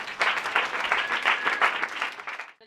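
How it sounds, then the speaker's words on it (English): Dense, steady audience applause for team 3 at an education design workshop, loud and sustained before cutting off sharply at the end. "Let's keep that round of applause going for team 3."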